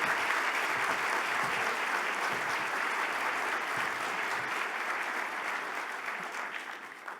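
An audience breaks into sustained applause to welcome a guest speaker at an opening-day event, steady dense clapping from a crowd that holds evenly and tapers slightly at the end, with no talking over it.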